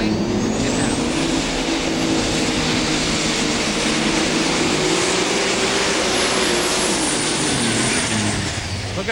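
The Big Toy 2 super stock pulling tractor roars at a pulling competition, its engine a loud, sustained, dense blare that holds nearly constant and eases only slightly at the very end.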